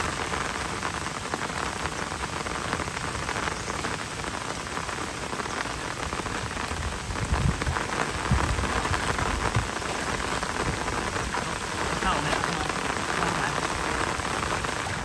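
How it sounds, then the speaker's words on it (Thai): Heavy rain pours steadily onto a surface at a rural pond during a fishing trip, a dense close hiss with drops pattering throughout and slightly louder bursts midway. "ฝนตกเย็นๆสบาย"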